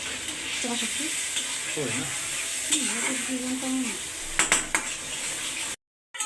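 Loitta dried fish sizzling in a pan with a steady frying hiss, a voice talking intermittently over it, and a few sharp clinks of a utensil against the pan near the end before it cuts to silence.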